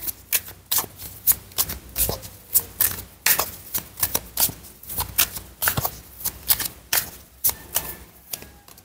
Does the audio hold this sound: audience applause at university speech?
no